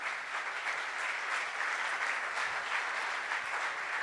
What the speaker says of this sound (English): Big round of applause for Ikula